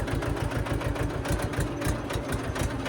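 A diesel tractor engine, pulling a field leveller, chugs in a fast, even knocking rhythm, close and steady, with no voices.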